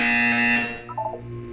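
Buzzer in the video game Portal 2, a loud harsh electronic buzz held for well over half a second and then cut off, followed by a short quieter tonal blip.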